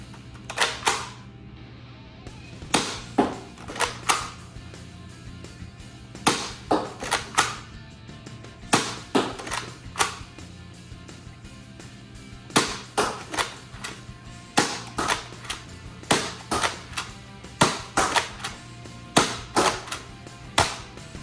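A Nerf Action Experience blaster fires egg-shaped shots in repeated sharp mechanical clacks, often in quick pairs or triplets, spread across about twenty seconds with brief pauses between volleys, close and without talk.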